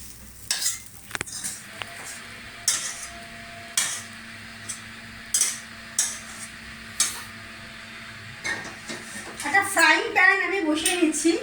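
Cooled roll stuffing is transferred from a pan into a bowl, with repeated scrapes and clinks of a utensil against cookware at a steady pace, nearby. A voice talks over the busier clatter at the end.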